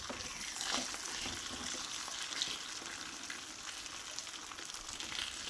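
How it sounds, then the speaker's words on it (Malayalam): Fish frying in coconut oil, a steady low crackling sizzle throughout with faint bubbling, close and quiet, no talking. "എന്നാൽ ഈ വെളിച്ചെണ്ണയിൽ ഇതൊന്ന് നല്ലതുപോലെ വെന്ത് വരട്ടെ"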